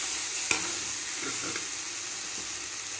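A banana stem stir-fry (poriyal) is stirred in a hot pan, with a soft continuous sizzle, a sharp clink early on, and a few light scraping strokes of the spoon.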